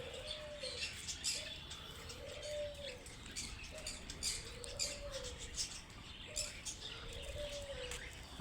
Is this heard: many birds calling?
yes